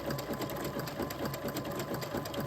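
A sewing machine runs steadily at close range, stitching textile scraps into patchwork fabric with a quick, even needle clatter and no pauses.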